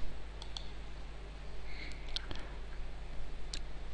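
Computer mouse clicking on an upload button of a file-upload web page: a few sharp, faint clicks scattered over a quiet background hum.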